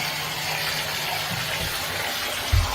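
Water rushes steadily from a water ionizer shower spa, a constant broad gushing stream that stays close and even throughout, with a brief low thump near the end and no talk.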